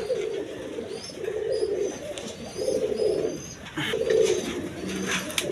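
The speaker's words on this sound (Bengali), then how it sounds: "বন্ধুগণ এখানে এক পেয়ার কবুতর আছে, দেখেন একদম বিগ সাইজের কবুতর।" A pair of big Raj Golla pigeons cooing close by in repeated low, throaty bursts with short pauses, and faint chirps overhead.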